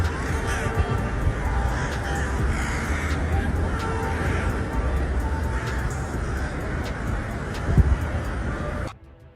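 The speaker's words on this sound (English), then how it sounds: "Thousands of birds fly across the city," Thousands of birds fly over a city, filling the air with a dense, loud chorus of overlapping caw-like calls that cuts off abruptly at the end.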